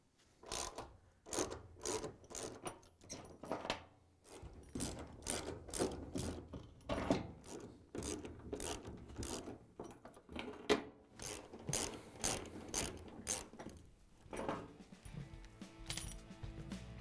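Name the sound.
ratchet with 13mm socket removing washer shipping bolts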